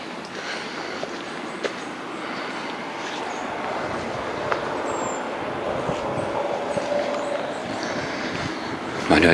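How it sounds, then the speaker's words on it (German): A train rolls through the valley below the Bastei lookout in Saxon Switzerland, a distant, steady rumble with faint wheel squeals and clicks carried up to the rocky viewpoint. "Man hört die Züge da unten."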